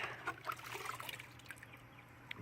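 Plain water runs and trickles over a rusty metal part during rinsing, a soft, steady splashing stream that stays fairly quiet and continuous throughout, with no voices.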